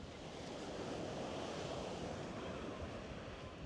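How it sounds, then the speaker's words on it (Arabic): Strong wind and high waves at a beach, with a steady loud roar of surf and wind buffeting the microphone throughout. "شوف الهواء والأمواج كتير عالي"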